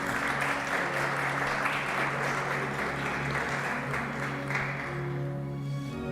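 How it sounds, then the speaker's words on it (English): Audience at a public debate in English claps for the teachers, a sustained, even round of applause in a hall with a low hum beneath, no voices over it. "Let's give a big applause to all of them."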